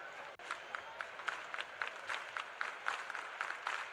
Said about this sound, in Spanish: Applause around the stadium.